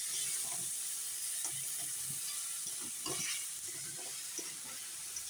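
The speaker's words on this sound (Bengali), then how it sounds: "ভালো করে নেড়ে দিচ্ছি অল্প জল দিয়ে" A paneer curry stirred in a pan after a little water is added, giving a steady hiss and sizzle with soft scraping strokes of a spoon throughout, close and continuous.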